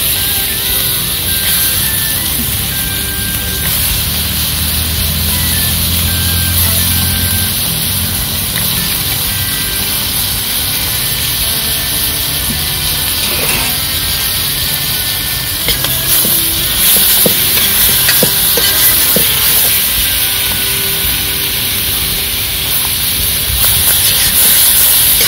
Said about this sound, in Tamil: நல்லா மசாலா வறுத்து வச்சு வதங்கின பிறகு நம்ம கழுவி வச்ச ஈரல போட்டுக்கங்க